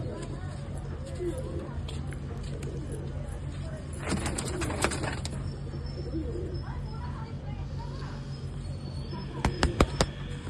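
Low pigeon coos repeat softly in the background while someone talks, with a few sharp clicks and flutters near the end.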